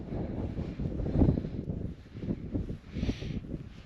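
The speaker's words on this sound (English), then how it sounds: "the wind is just too strong" Strong wind gusts across a hillside wild camp where a Hilleberg Enan tent is pitched, giving a low buffeting rumble against the microphone that is fairly faint and uneven.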